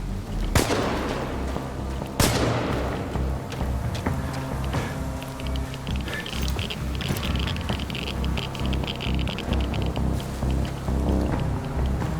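Gunfire in the horror game Chernobylite, two sharp loud shots early on followed by a dense, rattling spatter of further shots and impacts over a rumbling background.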